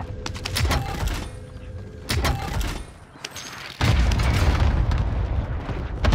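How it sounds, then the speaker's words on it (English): Cluster strike explosions in a video game, a string of heavy booms and bursts landing one after another, loud and close, with some brief crackling between impacts. "Allied cluster strike inbound."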